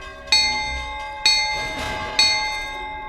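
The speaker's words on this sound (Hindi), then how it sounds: "तभी दूर गलियारे में एक घंटी बजी।" A bell rings three times at an even pace in a distant hospital corridor, each strike bright and ringing with a long, lingering decay that carries into the next.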